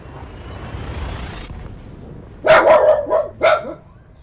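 A small dog barks three or four times in a quick sequence, loud and close, after a stretch of steady background hiss.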